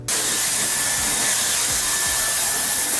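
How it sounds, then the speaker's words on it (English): A loud, steady hair dryer roars close by as a man's hair is blow-dried with a round brush in a barbershop, with a continuous airy hiss and no talking. "I'm going to grab my round brush and we're going to blow dry at the top of Jeremy's hair."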